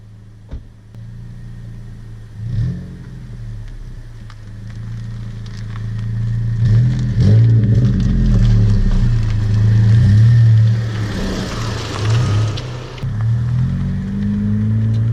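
A 2017 Honda Civic with a catless downpipe, muffler delete and cold air intake, driven and revving: a loud, close engine and exhaust note that swells under acceleration, drones steadily, then dips and climbs again.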